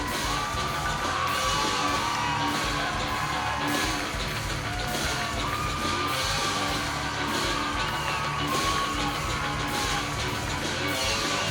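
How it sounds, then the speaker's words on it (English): A capacity crowd at the Las Vegas Hilton roars and cheers before a fight, a continuous dense mass of voices with scattered whoops and shouts rising and falling throughout. "A capacity crowd here at the Las Vegas Hilton as they get set to watch 3 rounds of Wulin Feng action"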